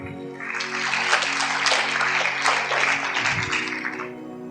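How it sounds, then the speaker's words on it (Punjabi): A congregation claps during a church sermon: a dense burst of applause rising quickly and holding steady for about four seconds before tapering off. "ਤਾਲੀ ਮਾਰੀਏ।"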